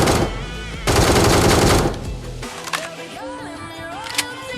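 Automatic gunfire in a video game montage, two loud rapid bursts up close followed by quieter game effects and chimes, with a voice talking beneath.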